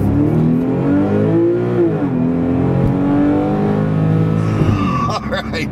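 A 2006 Porsche 911 Carrera S Cabriolet's flat-six revs hard and loud from the rear, rising and falling in pitch several times, with a sharp blip near the end as the revs drop.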